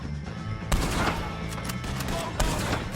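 Rapid gunfire in Red Dead Redemption 2 crackles in bursts aimed at O'Driscoll gang members, with several sharp loud reports over a busy battle din.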